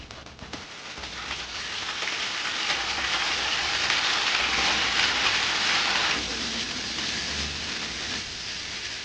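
Steady rain falls outdoors during cooking of mint chutney, a dense even hiss that swells slightly midway and then eases, with no talking.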